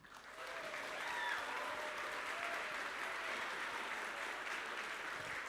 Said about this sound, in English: Let's now have the students carry on the first tradition of turning to applaud their mentors and coaches.